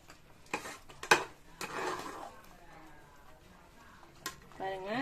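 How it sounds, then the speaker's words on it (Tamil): A spoon stirs varagu rice sweet pongal with ghee in a pot, giving close, sharp clinks against the metal and a soft scraping churn between them, with a brief voice near the end. "எல்லாம் சேர்த்து நல்லா கிளறி கொடுக்கலாம்."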